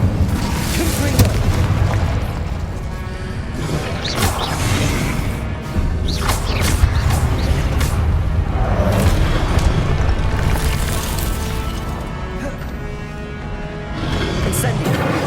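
Confringo fire-blast spells explode again and again in Hogwarts Legacy, a string of heavy booms and crashes with whooshing bursts over a constant loud rumble of combat.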